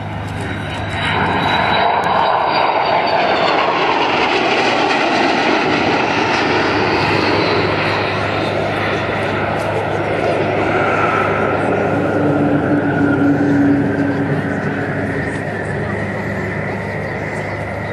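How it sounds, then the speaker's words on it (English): An Avro Vulcan bomber makes a loud, sustained flypast at the Cosford airshow, its engine roar filling the whole stretch and rising and shifting in tone as it passes, while a commentator speaks over it. "the pilot flying this Vulcan today, out to our left, is Martin Withers"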